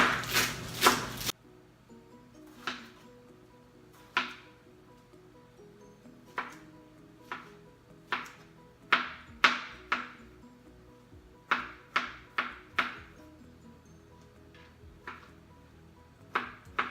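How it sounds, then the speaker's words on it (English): A knife slices green onions on a cutting board, about a dozen crisp separate knocks spaced unevenly over a quiet room, after a short burst of louder noise at the start. "So we're going to slice 4 to 6 green onions."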